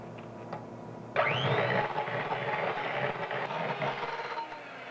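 Electric whisk or mixer whipping cream with vanilla extract and maple syrup; a quiet motor hum, then a steady louder whirring drone that starts about a second in and holds to the end.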